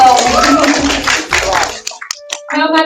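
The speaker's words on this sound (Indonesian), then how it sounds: "tepuk tangan dong" An audience at a short-film workshop gives a brief round of applause over loud talk, then a few scattered claps and voices as it fades.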